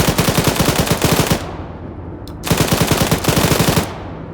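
Bursts of heavy machine gun fire in a Band of Brothers war game, two long loud rattling volleys separated by a brief pause, close and dominant with no voices.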